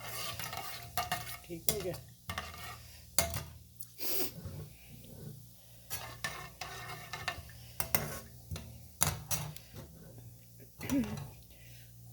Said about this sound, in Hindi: इसको अब हम थोड़ा सा मिक्स कर देते हैं, इसकी अच्छी सी खुशबू आ जाए